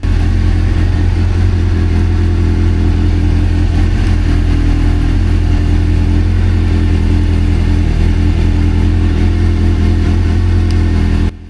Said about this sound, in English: So I'm just letting the bike get fully up to temperature so I can give it a few more revs.